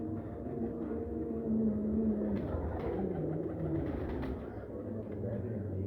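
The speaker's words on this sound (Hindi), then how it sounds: "ये डब वाले कबूतर हैं," Dab pigeons coo in soft, low, repeated calls at close range over a constant background murmur.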